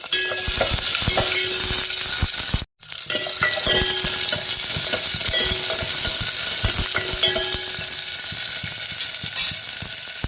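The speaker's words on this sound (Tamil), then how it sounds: "சேர்த்து எல்லாத்தையும் நல்லா வதக்கிடுவோம்" Onions, small shallots and green chilies sauté in a pan for a tomato soup, with a steady close sizzle and frequent stirring scrapes throughout and one brief drop-out near the start.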